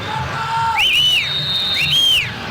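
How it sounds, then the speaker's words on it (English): During the 1999 Copa America match between Mexico and Brazil in Paraguay, the Mexico coach whistles orders from the sideline: a few sharp, loud, two-tone whistle blasts over a steady crowd murmur. "Mexican coach La Fuente whistles his orders"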